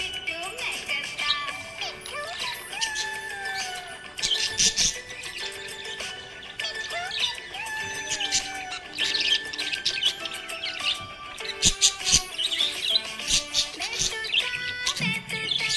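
A budgie parrot chirps and squawks continuously in rapid, busy bursts of tweets and warbles, close and lively, with some clicks and jingles mixed in.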